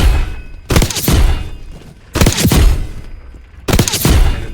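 In the Call of Duty video game, three loud, close explosion-like blasts hit about 1.5 seconds apart, each a sharp booming burst with rapid gunfire crackle that decays into a rumbling tail.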